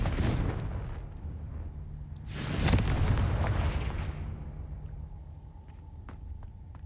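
A Confringo blasting spell explodes in the Hogwarts Legacy video game, a loud booming burst that swells and rumbles for a couple of seconds over a steady low background, followed by faint clicks.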